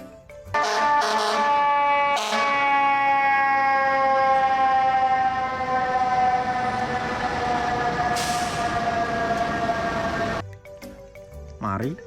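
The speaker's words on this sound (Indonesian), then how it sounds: "Ternyata ada mobil damkar teman-teman." A toy fire truck siren sounds close and loud as one long electronic wail, its pitch gliding slowly downward for about ten seconds, framed by handling clicks at the start and end.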